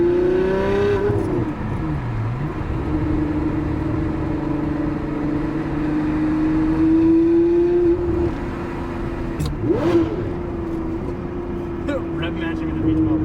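A Ferrari 599 V12 car engine is revved with rev matching, making a loud, sustained tone that rises and falls through several blips, with people talking over it.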